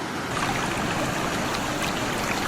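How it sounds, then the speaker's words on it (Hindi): Water flows in a steady, dense rush near a village, forming an even wash of noise that holds constant without pauses or voices. "पानी का आवाज।"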